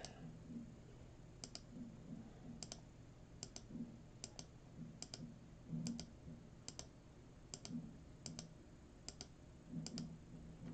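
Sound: repeated mouse clicks on a name randomizer

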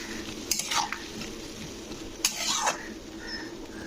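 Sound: tomatoes being stirred and sautéed in pangas fish gravy

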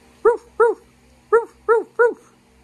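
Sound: dog barking sound

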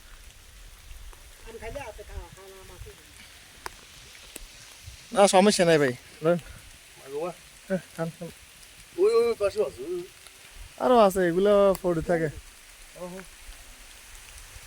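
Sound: rain falling

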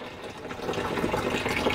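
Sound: water filling a Panda XPB36 washing machine

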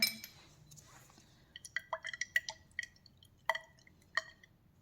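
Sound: shaking a laboratory test tube with emulsion

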